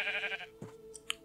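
A sheep in Minecraft gives one short bleat, followed by a few faint clicks and small sounds.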